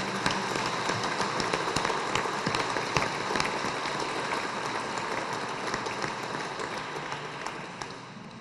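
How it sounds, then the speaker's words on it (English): Dense, sustained applause from an audience at a civic heritage-month ceremony in Cleveland honoring community honorees, a steady rain-like patter of many clapping hands with no voices over it, tapering slightly at the end. "let's have another round of applause for our wonderful honorees"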